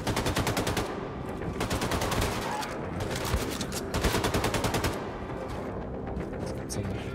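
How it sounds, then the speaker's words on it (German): Automatic gunfire in the first-person shooter Wolfenstein II: The New Colossus, rapid bursts of machine-gun fire hammering close and loud almost throughout, with brief gaps between volleys. "Schießen hier einfach auf mich"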